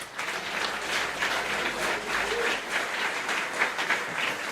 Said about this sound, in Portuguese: Você pode aplaudir a pessoa dele agora?